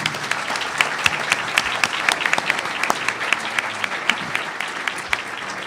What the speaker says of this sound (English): How about a round of applause for both these gentlemen?